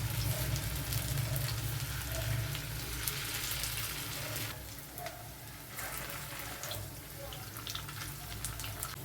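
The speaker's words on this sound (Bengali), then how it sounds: "এবারে আমি একে একে সব বড়াগুলো ভেজে তুলব" Paneer kofta balls fry in oil over medium-low heat, a steady bubbling sizzle that stays fairly even, dips slightly midway, then carries on.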